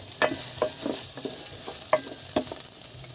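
Ginger and garlic frying in a pan for Filipino-style fish escabeche: a constant loud sizzle close up, broken by repeated dull knocks and scrapes of stirring, with no speech.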